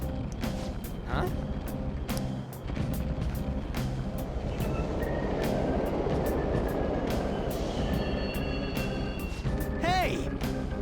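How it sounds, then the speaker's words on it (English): Subway trains rumble through a station in the video game Persona 5, a steady broadband roar with rail clatter and scattered clicks. A brief rising squeal comes near the end. "Yep, there are totally trains running. This is a subway."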